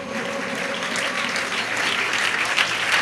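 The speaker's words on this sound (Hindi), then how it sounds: "ताली बजा दो सबके लिए" A crowd claps at a Jain honoring ceremony in Itarsi, a dense, sustained round of applause that stays loud and even for its whole length.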